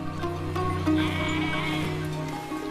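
Sheep and goats bleating, with several overlapping calls from animals nearby, steady and moderately loud throughout.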